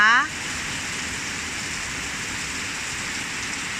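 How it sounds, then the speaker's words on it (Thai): Dense, steady hiss of heavy rain pouring down on the first night of Tropical Storm Conson in Thailand, constant and enveloping, following a brief cut-off tone at the start. "ก็แรงขนาดนี้ค่ะวันแรกค่ะคืนแรกของพายุฝนนะคะ"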